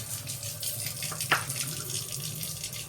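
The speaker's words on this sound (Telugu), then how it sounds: "వాటర్ పోతుంది" Water runs steadily from a kitchen tap, a continuous close splashing stream with a brief clink partway through.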